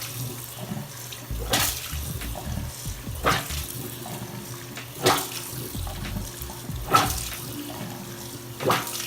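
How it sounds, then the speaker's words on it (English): Water running and draining down a clogged sink drain after plunging, a steady watery rush with several brief louder surges spaced a couple of seconds apart, close by with no talk. "So some of the water is going down the drain. Let me just pump it a couple more times."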